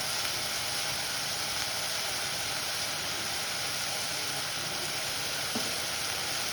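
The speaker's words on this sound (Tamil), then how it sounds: "பெருங்காயம் போட்டு உப்பு போட்டு நல்லா வதக்கணும்." Okra sautés in a pan with asafoetida and salt for a sambar, producing a constant, even sizzle at moderate level throughout, with no voices.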